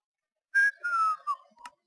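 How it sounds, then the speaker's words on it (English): A person whistles a short tune in a few sliding notes. The whistle is close and clear, with a brief breathy note at the end and otherwise silence around it. "I'm whistling."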